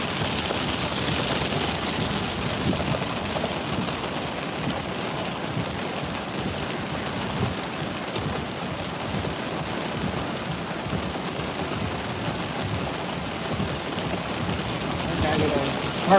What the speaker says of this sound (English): This is the rain that's wrapping around it a bit.